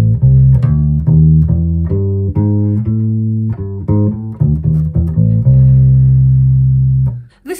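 A bass guitar plays a pentatonic scale with extra passing notes filled in, each note plucked in a steady run before a final sustained low note.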